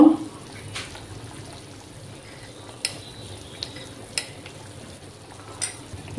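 Thin fish curry broth for tangra fish with ridge gourd and potato comes to a boil in the pot, a steady low bubbling and sizzle with a few soft clinks, close by and without talk.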